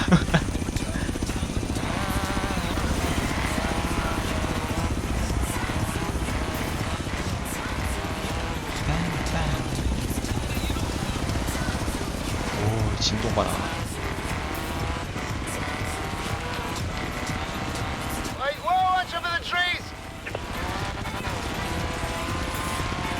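In the Forza Horizon 3 racing game, a helicopter's steady rotor drone blends with a racing car's engine in a dense, continuous roar that stays loud throughout, with brief rattling accents near the end.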